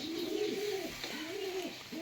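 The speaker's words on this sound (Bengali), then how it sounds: "এটা কালদমা পায়রা" A Kaldama pigeon with a black tail coos softly nearby, giving two rising and falling rolling coos in a row, fairly quiet with no talking.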